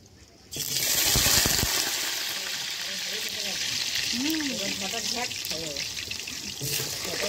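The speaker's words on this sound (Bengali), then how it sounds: "শাকের জন্য আমি কালো জিরে আর রসুন আগে ফোড়ন দিয়ে দিই" Black cumin seeds and garlic tempering in hot oil, a loud sudden sizzle that bursts in and holds as a steady hiss, with a voice talking faintly underneath.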